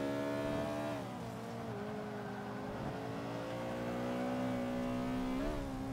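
Engine of a 2007 Honda Civic, front-wheel drive, heard through a lap of the racing game Forza 5: a steady, continuous engine drone that rises and dips slightly with throttle, with no talking over it.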